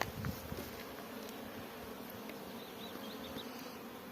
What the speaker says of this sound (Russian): чуть потеплело, и пчелки полетели.